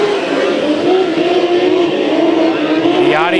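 Race cars restarting at Bakersfield Speedway, their engines a loud, sustained droning roar with a steady pitch, under a commentator's voice.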